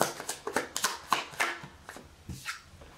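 Oracle cards are shuffled and drawn by hand, a quick run of crisp close flicks and riffles over about three seconds, with no talking.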